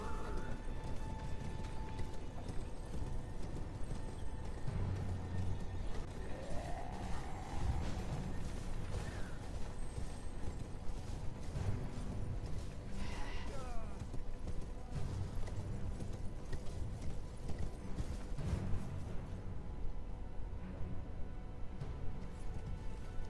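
Horse hooves of riders in the video game Elden Ring, a steady soft clip-clop that goes on the whole time under a low mechanical rumble and faint creaks.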